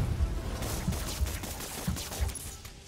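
Gunfire in Marvel's Spider-Man Remastered: a dense, continuous barrage of shots with repeated heavy low thumps, loud and busy throughout, with no talking over it.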